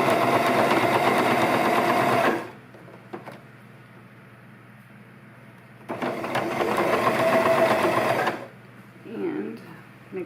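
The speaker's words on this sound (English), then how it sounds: "we want to sew over this hem" A sewing machine stitches over a fabric hem on a chair pouch, running in two steady whirring bursts of a couple of seconds each, separated by a quieter pause.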